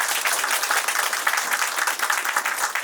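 A seated audience at a tZero blockchain platform presentation ceremony breaks into dense, steady applause, many hands clapping close and loud for the whole stretch without pause.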